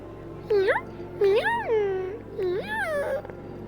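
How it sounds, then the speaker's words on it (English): Three drawn-out meows in a row, rising and falling in pitch, close and fairly loud against a quiet background. "Oh, we got a meow."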